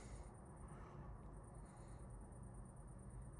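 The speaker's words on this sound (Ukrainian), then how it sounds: "Зараз тихо на вулиці, не спекотно, тільки цвіркуни цвірчать." Crickets chirp outdoors on a calm, quiet street, a faint, high and rapidly pulsing trill that repeats steadily over a soft background hush.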